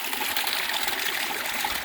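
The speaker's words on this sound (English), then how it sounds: "This is one of the few sources of water." A small mountain stream on Alta Peak Trail in Sequoia National Park gurgles and rushes steadily, a close, moderately loud continuous water flow with no voices.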